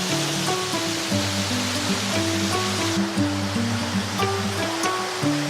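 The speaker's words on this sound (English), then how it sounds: "We're now coming up to this waterfall." A mountain-path waterfall rushes in a constant, close roar, while a steady musical drone with shifting tones plays over it throughout.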